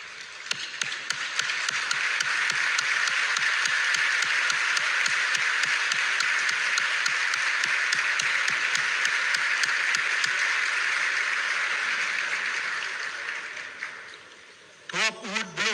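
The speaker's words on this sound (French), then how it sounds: "je invite nous encore une fois pour nous bailler un encouragement avec applaudissement" Sustained audience applause at a political address in Haiti, dense steady clapping swelling in, holding loud for over ten seconds, then fading as a voice returns.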